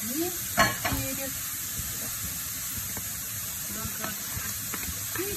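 Celery rings and pepper sautéing in a pan for a vegetable soup give a steady, close sizzle with a few louder clinks and scrapes near the start and scattered light stirring knocks throughout.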